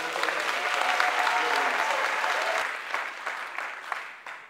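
Sustained audience applause for Jean-Félix Senga at an opposition political gathering, dense and steady before thinning into scattered claps near the end.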